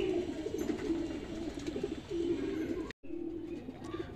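Six Saharanpuri pigeons, five of them male, coo in low, throaty rolling calls, overlapping continuously nearby, with a brief cut in the middle.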